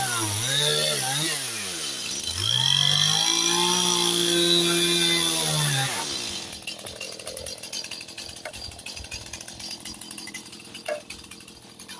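A chainsaw cuts through eucalyptus hardwood, its engine rising to a loud, strained whine during the cut, then dropping back to a rough, rattling idle with scattered knocks.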